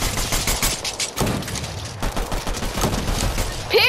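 Dense, rapid gunfire bursts in Fortnite, close and loud, a continuous barrage of overlapping shots with no speech.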